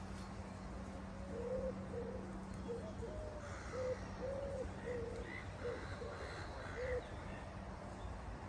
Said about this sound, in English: there's plenty of wildlife around here, birds and all sorts of things really